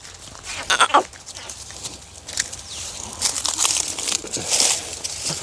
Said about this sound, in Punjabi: ਆਪਾਂ ਬੱਕਰੇ ਦਿਖਾ ਦਿੰਦੇ ਆ